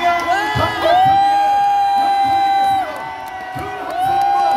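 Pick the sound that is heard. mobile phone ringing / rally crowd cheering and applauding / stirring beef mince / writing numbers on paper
rally crowd cheering and applauding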